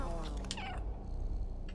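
A cat meows in the video game Stray, a brief rising call heard over steady game ambience and music.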